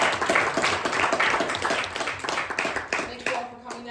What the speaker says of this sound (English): let's have one last round of applause for Dr.